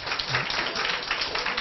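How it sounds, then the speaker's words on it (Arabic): An audience on a children's program applauds a child who has just won a prize, with steady, close clapping for under two seconds. "صفقوا له"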